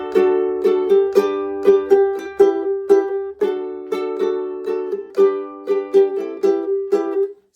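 A ukulele plays the repeating vamp riff of a song, crisp plucked chords in a bouncy, steady rhythm with short gaps, close and clear, no talking.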